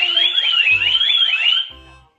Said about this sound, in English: Hindi pa pala napatay ang alarm